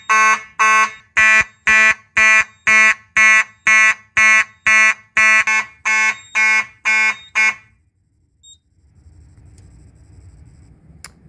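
A Simplex fire alarm horn strobe blares in a basement after a pull station test, a loud rapid series of about fifteen evenly spaced electronic honks that stop abruptly, followed by faint room noise.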